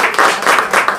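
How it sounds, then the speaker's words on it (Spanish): Applause greeting a guest at a press conference in Ushuaia, a roomful of hands clapping in dense, swelling bursts for about a second, close and fairly loud. "un fuerte aplauso para recibirte"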